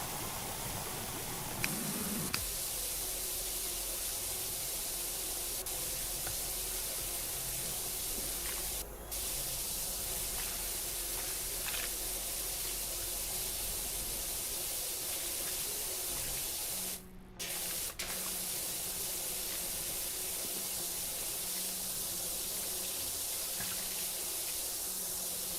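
Pressure washer spraying in PowerWash Simulator 2, a steady, loud hiss of water jet running almost continuously, with only a couple of very brief breaks.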